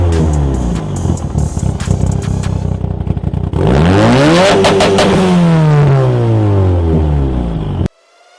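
A tuned Mitsubishi Lancer Evo engine revs hard and loud close by, a throaty rising and falling roar with crackling clatter, building to a long high sweep before cutting off abruptly.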